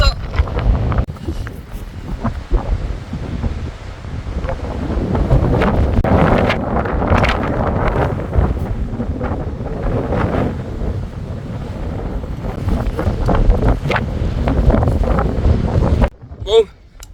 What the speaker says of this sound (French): vu ce vent hyper fort là